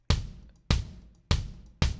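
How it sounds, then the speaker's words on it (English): Four punchy DW kick drum sample hits, evenly spaced, each with a sharp attack and a short booming low decay, played alone. "I've also got the DW kick."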